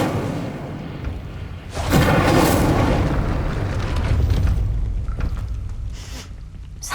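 Incendio fire spell from Hogwarts Legacy, a sudden heavy whooshing burst of flame that roars loudly for a few seconds before fading into crackling rumble.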